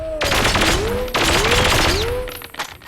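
A submachine gun in the first-person shooter Perfect Dark Zero fires in rapid sustained bursts, loud and close, two long volleys with a short break between them, under a gliding tonal hum.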